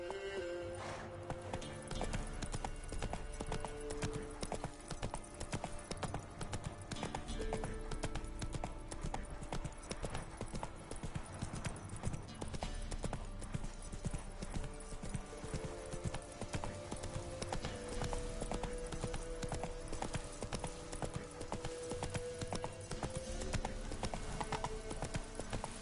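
Horse hooves gallop in a steady, continuous clip-clop rhythm in the Witcher 3 video game, with a brief whinny mixed into a busy, even-level game soundscape.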